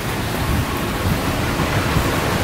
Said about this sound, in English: It's also like really rainy today.